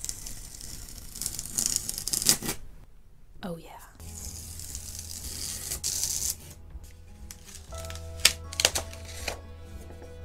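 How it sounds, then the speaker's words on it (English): Masking tape peeled from the edges of a gouache painting on paper, giving a few crisp tearing rips between stretches of quiet handling noise, with a low background hum and brief speech. "Alright, tape peel time."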